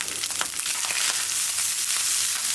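Leftover cooked rice frying in a pan, giving a steady, loud broadband sizzle with faint scraping stirs throughout, no voices.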